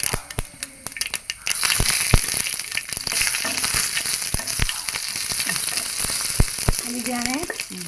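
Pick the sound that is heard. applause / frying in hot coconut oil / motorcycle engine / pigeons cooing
frying in hot coconut oil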